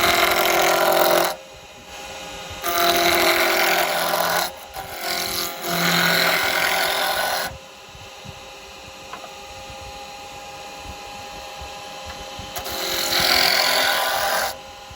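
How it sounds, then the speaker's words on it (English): A carbide tool roughs a wood blank down to round on a lathe, giving bursts of loud, raspy, whining cutting noise that start and stop several times, separated by the quieter hum of the spinning lathe. "just rough this down to round, okay, just to speed it up a bit"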